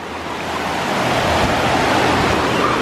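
Surf washes through ankle-deep water with a strong backward pull, a steady, loud broadband rush of waves that swells and holds, with wind noise and no talking.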